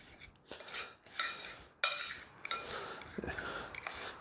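Spoon stirring minced garlic into ricotta in a bowl for keto fathead dough lasagna, soft scraping and scattered light clinks against the bowl, close and quiet.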